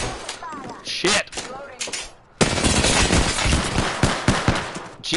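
Rapid automatic gunfire in the video game Apex Legends, loud and sustained bursts with a brief pause before a heavier continuous stream of shots; a voice reacts briefly at the start.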